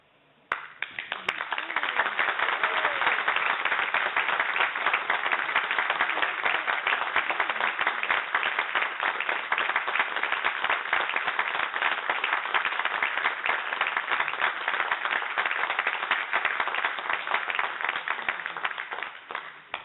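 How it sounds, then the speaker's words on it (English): Sustained applause from an audience at a war poetry competition prize evening at the ACE Centre in Nelson, honouring the under-18 section winners; dense, steady clapping runs loud for nearly twenty seconds after a brief quiet start. "let's keep the round of applause for the winners in the under-18 section"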